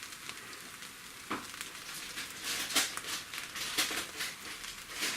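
Mushroom vegetable fried rice crackles softly in a pan while being stirred, with quiet sizzling, occasional scraping strokes and crinkly bursts; nobody speaks.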